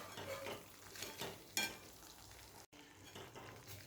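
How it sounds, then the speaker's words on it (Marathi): Boiled eggs, halved lengthwise, are sautéed and stirred through a spicy masala for egg curry. The pan gives a soft sizzle under repeated scraping strokes, with one sharper clink midway, a brief dropout, and then the stirring carries on alone. "हे अंडे या मसाल्यामध्ये परतवून घ्यायचे आहेत"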